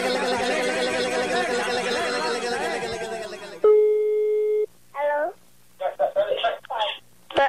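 Telephone line tones on a prank call: a busy signal with steady pulsed beeps, then a held line tone and short bursts of dial and ring signals with brief gaps between them, after a stretch of muffled radio-style chatter.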